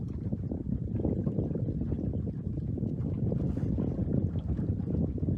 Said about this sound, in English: Now I'm back in the wind here.